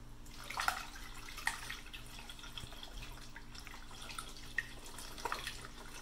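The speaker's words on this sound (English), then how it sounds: "pouring your window washing fluid" Window washer fluid poured through a funnel into the reservoir of a Tesla Model 3, heard as faint, close trickling with a few sharper drips and splashes scattered over a quiet background.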